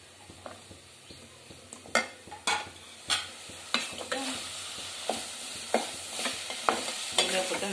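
Potatoes, beans and carrots sautéing in sesame oil in a pan, with a soft sizzle under repeated clanks and scrapes of a spatula stirring the vegetables, close and with no one talking.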